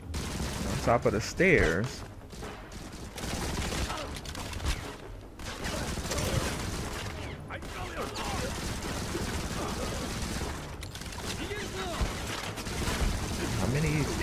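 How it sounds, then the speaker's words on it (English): Rockets and rapid gunfire pound through a battle in the mobile shooter Modern Combat 5: Blackout, loud and continuous for the whole stretch, with someone talking over the din. "Oh, they are using rockets on me."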